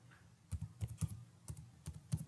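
Keys tapped on a computer keyboard while entering a web address into a browser, a few quick close clicks in short uneven bursts over a quiet room hum.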